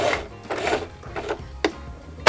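A home sewing machine runs in several short bursts of stitching, some quick and sharp, as a straight stitch secures a buttonhole on a fabric belt bag. Nobody speaks.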